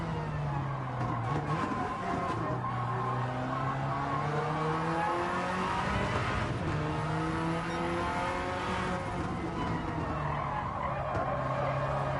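Tires squeal and skid continuously under a revving race car engine in Gran Turismo 7, played in VR, the pitch sliding up and down as the car slides, loud and close throughout.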